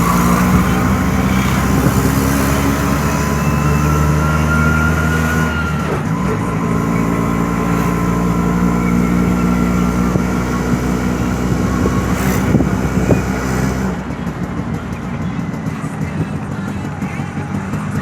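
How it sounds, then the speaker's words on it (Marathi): Steady loud drone of an auto rickshaw engine heard from inside while riding, with road rumble and brief shifts in pitch as it speeds up and slows down, continuous throughout. "भावांना आता इथून रिक्षा पकडलेली आहे."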